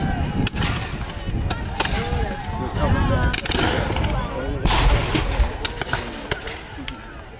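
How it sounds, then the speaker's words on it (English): British artillery at a French and Indian War reenactment at Fort Niagara fires at the fort, sharp cannon reports and scattered gunfire cracks repeating irregularly, with voices talking throughout. "British artillery continues to bombard the fort's main walls"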